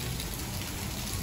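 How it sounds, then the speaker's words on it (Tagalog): Heavy rain with hail pouring down in a dense, constant roar, loud and unbroken from start to finish. "Grabe, ang lakas ng ulan."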